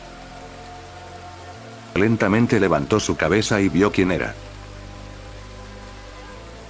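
Steady rain falls as a sound effect in a Spanish-language audiobook of a zombie apocalypse story. A soft, constant hiss of rainfall runs the whole time, and a narrator speaks a short line over it midway.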